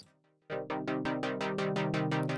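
FL Studio synth with a sawtooth-wave LFO driving its filter: after a brief quiet note, a loud tone enters with repeated sharp bright attacks that decay, a rapid pulsing rhythm heard alone.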